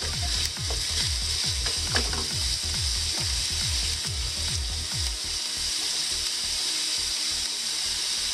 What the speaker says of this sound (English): our friends have this nice little salt shaker that takes forever to put salt in the pan